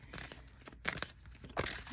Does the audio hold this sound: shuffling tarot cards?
yes